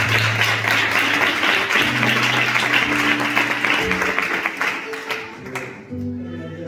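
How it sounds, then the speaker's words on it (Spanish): Church congregation clapping together during a Thursday worship service, steady and sustained over several seconds, with a voice and musical tones underneath. "Dale un aplauso al Señor."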